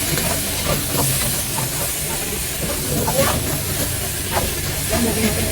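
Chinese white wine splashing into a hot pan while braising pork trotters, giving a steady loud hiss and sizzle that runs throughout, with a few faint voices in the background.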